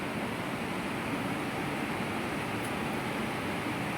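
A wide river swollen by rain flows past as a soft, steady, hiss-like rush of water, constant and fairly faint, with no voices over it.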